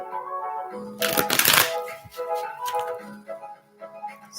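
Tarot cards riffle in a loud, dense burst of papery flutter, with softer handling and sliding sounds before and after, close by.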